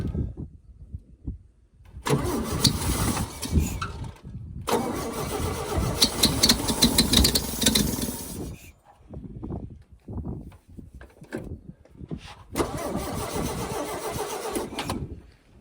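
An old oil field engine cranks and fires up, running loudly in bursts with short pauses between, chugging steadily near at hand without any voices.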